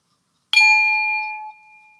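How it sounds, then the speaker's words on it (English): A single meditation chime strikes once, bright and clear, then rings on with a long pure decay into silence. "let's do that one at the sound of the chime"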